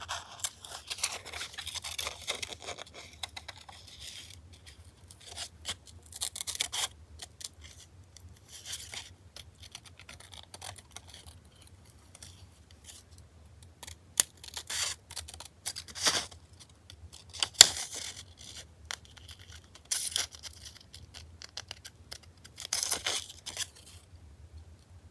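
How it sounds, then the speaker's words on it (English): Very large scissors cut through paper in repeated crisp snips and rustles, close and fairly quiet, with short pauses between bursts of cutting. "I know I'm using the largest scissors in the world to do this"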